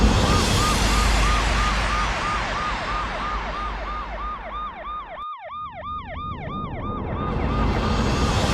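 An ambulance siren wails loud and close in a rising and falling pattern over steady traffic rumble, and a second, higher siren tone joins in partway through.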